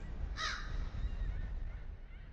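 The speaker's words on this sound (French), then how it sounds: "Y'a un oiseau?" A single crow caws once near the start inside a horror video game, a short harsh call standing out over a steady low rumble of wind or ambient noise that continues alone.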